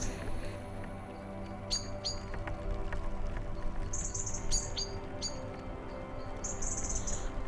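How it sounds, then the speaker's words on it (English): Small birds chirp and tweet in short, bright bursts across a quiet forest, scattered calls coming and going over a soft, steady background hum. "the birds and how they chirp chirp"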